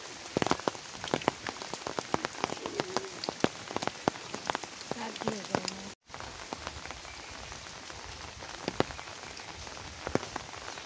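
Steady rain falls near a swollen river, a dense hiss of drops pattering on surfaces with sharp close splashes, continuous apart from a brief dropout midway, with no voices.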